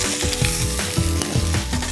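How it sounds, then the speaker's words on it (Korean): Spicy pork ribs sizzling as they cook in a pan with garlic and ginger, a dense, continuous frying hiss with light stirring and clatter, close and steady with no voices. "이렇게 노릇노릇하게 잘 구워졌어요."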